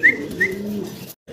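Racing pigeons for sale give short, soft coos close by, two quick rising calls and a low throaty murmur, then a brief silence before another faint coo.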